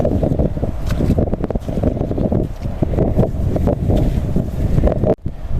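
Strong wind roars and buffets the microphone continuously, a loud rumbling rush with gusty fluctuations throughout and no voices.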